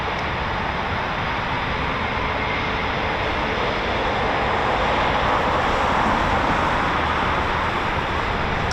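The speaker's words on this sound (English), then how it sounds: "Sounds like we've got more departures as well." Eurofighter Typhoon FGR4 jets depart from an RAF station, filling the air with a continuous broadband engine roar. The roar holds steady and loud throughout and is heard from a distance, with no voices.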